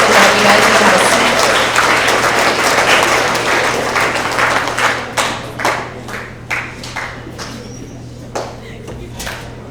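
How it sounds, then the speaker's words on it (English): Audience applause at a school award assembly for grades 6 to 8, loud, sustained clapping from a crowd that thins out into scattered individual claps toward the end. "let's give another round of applause for all of our English language arts winners"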